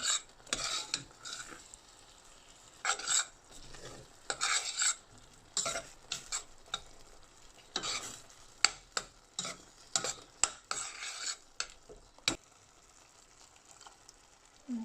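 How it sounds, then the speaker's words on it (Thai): Cassia leaves (khi lek) stirred in coconut milk in a pot, with repeated scraping, clattering strokes of a utensil in an irregular rhythm, fairly close and moderately loud, with no talking. "พยายามคน ขี้เหล็กใส่กะทิ"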